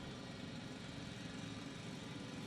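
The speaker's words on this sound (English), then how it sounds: "Oh, it's a portable drill." Portable drill running in a space colony video game, a continuous loud grinding engine-like drone with no change in rhythm and no speech over it.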